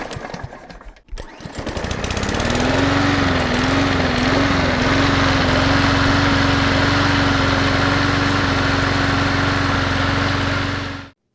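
A Toro Titan MyRIDE zero-turn riding mower with a V-twin engine cranks and catches, then runs at a loud, steady roar close by, with a slight waver in pitch early on, until it cuts off at the end.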